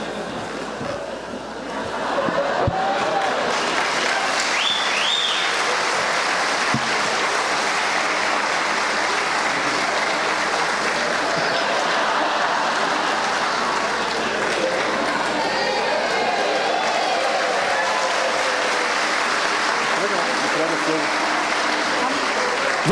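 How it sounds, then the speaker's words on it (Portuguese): Sustained applause from a church congregation fills the room for about twenty seconds, a dense, steady clapping that stays loud throughout with faint voices mixed in. "Vamos bater com muita vontade de palmas para esses três em pé, gente."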